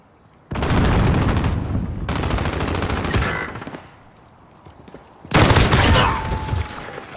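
Bursts of rapid automatic gunfire from a Modern Warfare search and destroy match, loud and close, come in three strong volleys separated by brief lulls.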